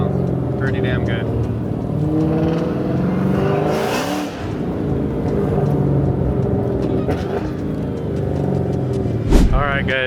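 Dodge Hellcat with a Formula Z exhaust pipe rumbling and revving while driving, a loud, steady engine drone with throttle swells, mixed with voices talking over it.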